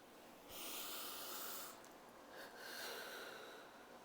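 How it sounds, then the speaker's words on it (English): A slow, deep breath drawn in and released, two long airy swells close to the ear with a short pause between, in otherwise quiet surroundings. "allow me to just take a deep breath here."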